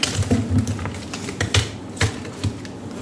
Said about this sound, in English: I'm going to take out 2 cards from the tea leaf fortune telling cards